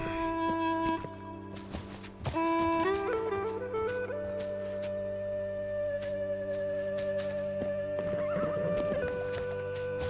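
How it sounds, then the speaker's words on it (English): A horse in a historic open-world survival delivery game gives a loud, long whinny that rises and holds steady, with a few hoof clip-clops. No one speaks. "Oh, the horse injured himself."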